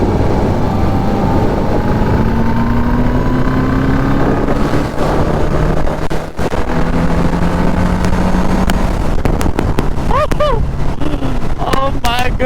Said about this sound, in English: I still know how to ride a motorcycle